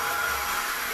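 A Nequare S23 cordless vacuum runs close by while cleaning a wall unit, giving off a steady, even whirring motor hum with no break.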